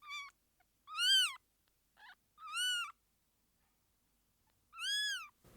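Several newborn kittens, umbilical cords still attached, found in a warehouse among sacks of rubble, give loud, high-pitched, drawn-out meows in three separate bursts, each with shorter squeaks between them and silence in the gaps.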